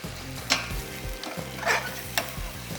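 Masala for ghee roast chicken wings sizzling and frying in a pot, a steady close hiss broken by several sharp stirring scrapes, with no talking.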